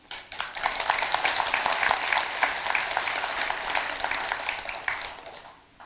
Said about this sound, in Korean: 박수도 치실 줄 아시고